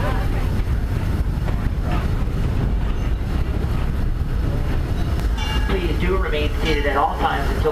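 Disneyland Railroad train rolling along with steady low rumble and clatter throughout, with a voice speaking over the ride noise and some higher tonal squeals toward the end.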